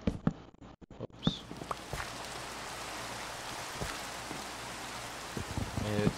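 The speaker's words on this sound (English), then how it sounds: "It's raining. It's pouring. Oh man, the storm." Steady rain from a storm in a video game hisses evenly across the scene, with a few clicks and thuds at the start and scattered taps toward the end over the constant downpour.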